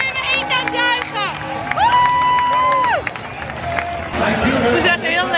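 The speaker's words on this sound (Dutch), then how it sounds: "Ik ben in mijn eentje aan het juichen." Fans cheer at a Phillies baseball game in the stadium, with whoops and raised voices close by and people talking throughout.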